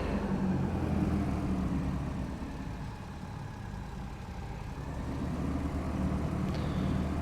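Twin engines of a Beech Duchess in a flight simulator game, throttled back to idle. A steady low engine hum runs continuously, dipping slightly in the middle, with no talking.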